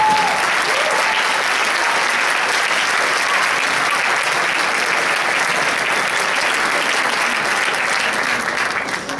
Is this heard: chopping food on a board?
no